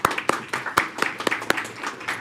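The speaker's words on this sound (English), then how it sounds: "Let's give Dr. Welch a round of applause." Scattered, uneven clapping from a small audience at a school board of trustees special meeting, applauding Dr. Welch; a few sharp individual claps stand out over a thin, quiet patter lasting about two seconds.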